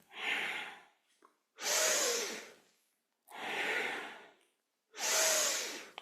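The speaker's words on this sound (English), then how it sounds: "Breathing deep." Slow, deep breaths during kundalini yoga, heard close up as four long, airy inhales and exhales of similar length separated by short silent pauses, with no talking.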